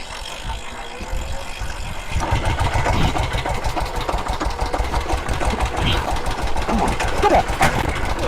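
A classic Suzuki or Honda motorcycle engine fires up and settles into a steady, rapid, slightly rattly running note close by, growing louder after a couple of seconds, with people talking over it.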